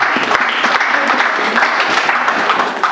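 A church congregation applauding, dense close clapping from many hands sustained throughout at a strong, steady level.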